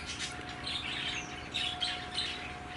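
Birds chirping and tweeting outdoors over a steady background of breeze or hum, with overlapping high calls at moderate distance and no voices.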